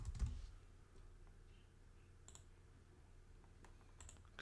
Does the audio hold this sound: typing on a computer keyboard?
yes